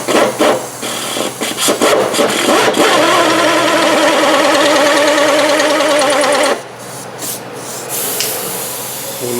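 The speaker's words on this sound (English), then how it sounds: "so let's drill it out." A power drill bores out the screws on a 2007-2011 Honda CR-V door lock actuator, a loud steady grinding whine with rising harmonics for about six seconds before it cuts off, leaving a quieter rasp.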